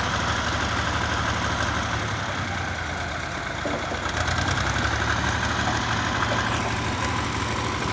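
A tractor engine runs continuously with a steady, rough mid-to-low idling drone and a faint knocking texture, holding a constant loudness throughout in an outdoor village setting in Punjab, Pakistan.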